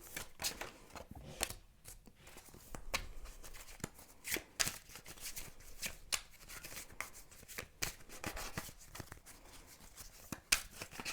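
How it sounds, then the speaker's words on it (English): Tarot cards shuffled by hand during a card reading, a steady run of crisp riffling and slapping bursts that keeps going, fairly close but quiet, with no talk. "I'm going to shuffle the cards"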